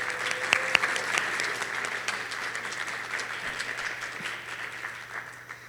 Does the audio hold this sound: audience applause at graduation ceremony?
yes